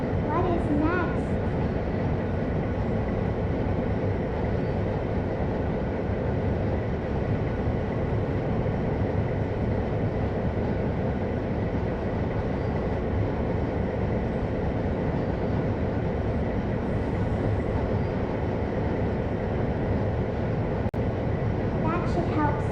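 Train rumble from a train simulator video game, a continuous steady rolling drone with faint clicks, running evenly throughout.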